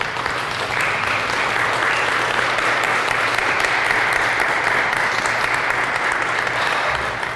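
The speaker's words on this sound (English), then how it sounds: "How about a round of applause for these ladies and these people?" Audience at a Cancer Survivors Day event applauds caregivers, with dense, continuous clapping from a large crowd, steady and loud throughout.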